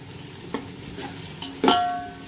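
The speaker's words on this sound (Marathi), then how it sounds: "आता हा कांदा पुलावसाठी आपण घेतला आहे तो लाल करून घ्यायचा आहे" Onion being fried until browned for a pulao, giving a faint sizzle with a few soft stirring scrapes and one louder clatter near the end, with no talk.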